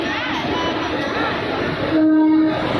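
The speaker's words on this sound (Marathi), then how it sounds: "ट्रेन आली बघा" A train rumbles close by with a steady roar as it arrives at a station, and a short horn blast sounds near the end.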